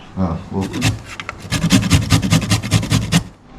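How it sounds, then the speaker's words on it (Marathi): Beetroot and carrot being grated by hand in a home kitchen: a run of quick, rhythmic scraping strokes against the grater, close by, following brief talk at the start. "हांव आतां बीटरूट किशितस आणि आणि कॅरेट किसून दवरता."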